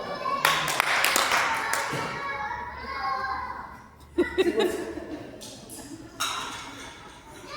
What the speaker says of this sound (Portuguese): Vamos dar um aplauso para esse homem de Deus.